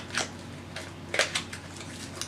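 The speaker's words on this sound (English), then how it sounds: "Scissors work great." A few short, crisp snips of scissors cutting paper, spaced irregularly, close and fairly quiet.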